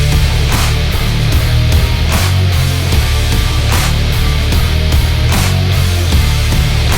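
A heavy nu-metal remake plays with a dense, loud full-band mix and driving drum hits throughout, no talking over it.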